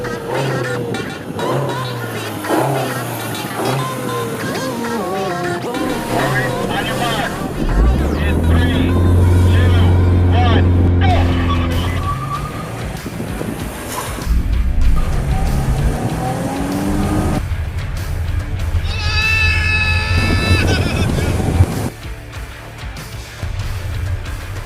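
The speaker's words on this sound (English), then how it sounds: "So let's do the world's shortest drag race." A Honda Civic, Chevy Cruze and Mazda 3 hatchback launch in a short drag race, engines revving hard and roaring up through the gears, loud and close, with a sharp tire squeal near the end.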